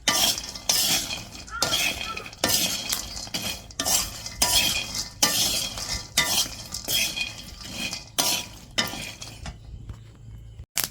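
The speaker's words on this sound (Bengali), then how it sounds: "যখন এই যে পটপট সাউন্ড হচ্ছে, এরকম সাউন্ড হবে, তখন ভাববেন যে ফলটা ভাজা হয়ে গেছে" Fish bait mixture for rohu, catla and mrigal frying and being stirred in a pan, with repeated scraping and clattering strokes and crackly popping bursts over about ten seconds, close and fairly loud, no talk.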